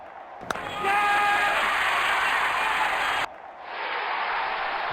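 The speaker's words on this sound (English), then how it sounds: "Crowd going mad here." Stadium crowd cheering in the cricket video game Real Cricket 20: a loud, continuous roar of a large crowd that surges and holds, then drops briefly and rises again, with no talk over it.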